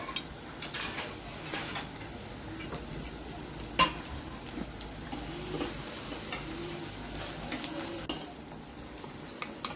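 Vegetables fry with ginger-garlic paste in a pan for paneer pulao, giving a steady soft sizzle under occasional stirring scrapes and light utensil taps throughout.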